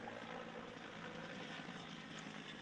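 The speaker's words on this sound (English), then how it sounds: "Helicopter." A helicopter drones overhead as a steady, distant rotor and engine rumble, faint and unbroken throughout with no talking.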